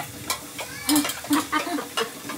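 Jackfruit seeds frying with browned onion in a pan for a Konkan home meal, with several short scraping stirs of a spoon over a light sizzle, close and fairly loud, no talk.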